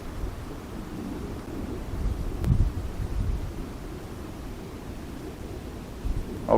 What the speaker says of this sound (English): There's a little bit of wind right now, not a whole lot, just kind of a light breeze